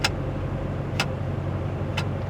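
Metal start-stop and drive mode control in an Aston Martin DB12 giving three sharp, hefty clicks about a second apart over a steady low cabin hum, with no talking.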